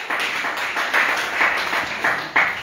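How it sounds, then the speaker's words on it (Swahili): A church congregation clapping to welcome a first-time visitor during a service, a quick run of rhythmic claps with a few slightly louder accents, close and lively, no voices over it. "tumpigie makofi yule dada pale"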